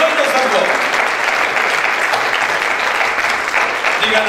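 Church congregation breaking into sustained applause during a Spanish-language sermon, a dense, steady wash of clapping that fills the whole moment without letting up.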